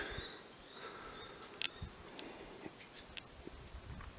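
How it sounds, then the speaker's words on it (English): Wild swifts flitting inside a cave near rocky ledges give a brief high chirping call over hissy ambient noise, with a few faint scattered ticks and rustles around it. "There's quite a few birds flying around in here."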